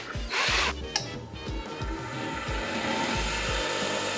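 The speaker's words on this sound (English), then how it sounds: "put your tungsten into a power drill" A power drill spins a tungsten electrode clamped in its chuck, a loud steady whine with repeated short bursts and revving, close to the mic and alone.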